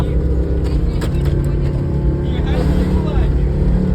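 Car engine hums steadily and revs up and down at low speed as a learner driver practises clutch and gas in a manual-gearbox car, with an instructor's voice talking over it throughout.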